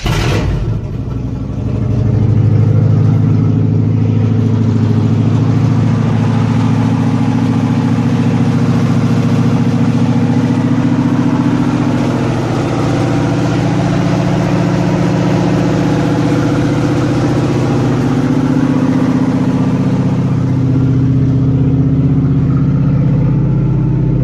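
A V8 pulled from an S10 runs loud with the exhaust off on one side, a steady low, rumbling idle with slight revving that holds close and continuous for the whole stretch, with no talking.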